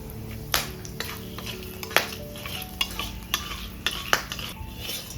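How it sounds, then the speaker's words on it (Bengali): A bay leaf and whole spices, cardamom, cloves and cinnamon, crackle in hot oil with a soft sizzle, punctuated by several sharp metallic clinks and scrapes of a spoon stirring in the pan; no speech. "তেলের মধ্যে একটা তেজপাতা দেব আর গরম মশলা দেবো এলাচ লবঙ্গ দারচিনি এটা হালকা আছে একটু ভেজে নেবো"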